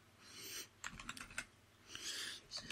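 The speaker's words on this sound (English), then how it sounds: "I'm going to move my speaker, I mean, microphone just a little bit so I can type in here." Typing on a computer keyboard, two short bursts of key clicks with a quiet pause between them, close and fairly faint with no talking.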